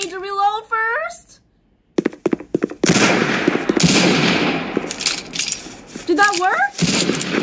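Rapid gunshots from a gun in the Roblox murder game burst out in a dense, loud run with clinking transients, between stretches of excited talk.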